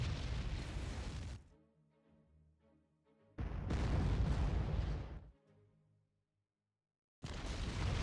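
Naval bombardment explosions in the World War II strategy game Panzer Corps roar in long, heavy bursts, with several blasts separated by quiet gaps and faint rumbling tails.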